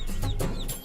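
A rooster clucks two or three times in quick succession, close and fairly loud.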